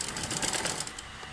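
A sewing machine backstitches across a seam joint on garment fabric, a quiet, fast, even mechanical whirr and needle patter lasting about a second and a half.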